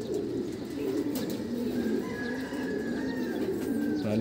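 Steady low cooing from several pigeons continues throughout, with faint chirps and a thin whistling tone above it.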